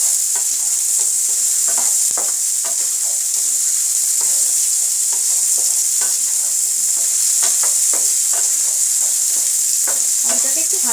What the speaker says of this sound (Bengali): আলুটাকে একটু ভাজা ভাজা করবো।